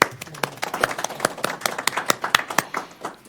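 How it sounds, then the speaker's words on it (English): A brief round of applause at a historic preservation commission meeting, a small group clapping in an uneven rhythm, close and fairly loud, with sharp individual claps standing out. "how about we have a round of applause for him?"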